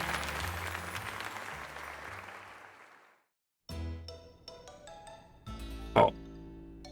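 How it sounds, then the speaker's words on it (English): A crowd applauds in the Pokémon Legends Z-A tournament with dense, steady clapping that fades out after about three seconds. Game music and character sound effects follow. "let's give another heartfelt round of applause to Unravled"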